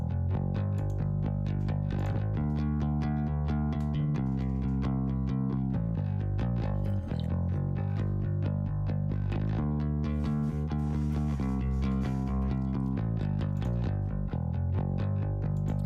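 Rock song mix with a prominent bass guitar carrying slight distortion, playing a steady rhythmic line under drums and other instruments, loud and continuous without talk.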